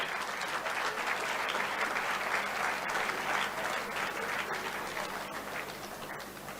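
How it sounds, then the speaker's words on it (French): Sustained audience applause fills a gala awards evening in a hotel ballroom, a dense steady roar of many hands clapping at once, loud and even throughout before tapering slightly at the end. "Vous pouvez applaudir."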